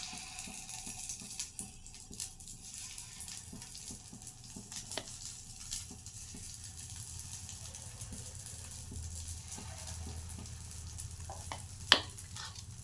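Ponganalu batter frying in hot oil in a pan, a faint continuous sizzle with small crackles and a brief sharper click near the end, quiet and without talk.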